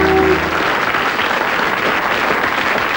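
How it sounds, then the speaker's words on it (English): Studio audience applause for a quiz show contestant, a dense steady wash of clapping at close range that carries through the whole stretch, with a brief moment of talk at the very start. "Round of applause for Thing."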